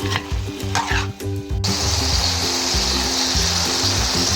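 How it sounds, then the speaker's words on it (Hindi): Spices frying in ghee for bhunai while being stirred, a steady loud sizzle with scraping stir strokes early on, close and without talk. "अब अच्छी तरह इसकी बुनाई करेंगे"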